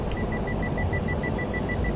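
A multimeter gives a rapid series of short, evenly spaced electronic beeps while probing a 2005 Saturn Ion fuel injector harness, repeating steadily over a loud low rumble of background noise.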